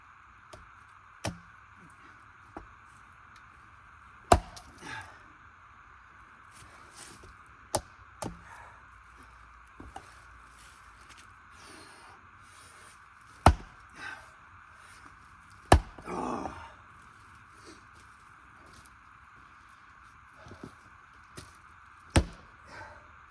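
Someone splits oak with a Lexivon axe outdoors: about a dozen sharp, irregularly spaced strikes over a steady background hum, some blows much louder than others, with no talking.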